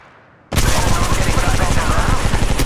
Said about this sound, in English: Firing. Fire. Reloading.